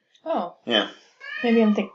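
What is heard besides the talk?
cat meowing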